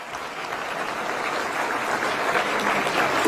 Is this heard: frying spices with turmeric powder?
no